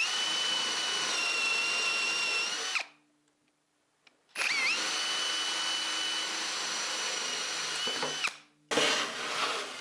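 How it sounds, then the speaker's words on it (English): A power drill whines loudly as it bores a starter hole in a workpiece for a radial arm saw blade, in two long bursts separated by a short silence, then starts again briefly. "What I do need to do is drill a hole so I can lower the blade down into it."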